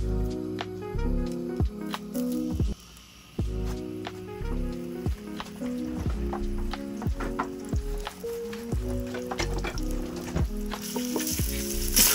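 Two cloves of crushed garlic frying in a little oil for hot and sour soup crackle and sizzle close by, under a steady repeating musical backing with brief dips; no voices are heard.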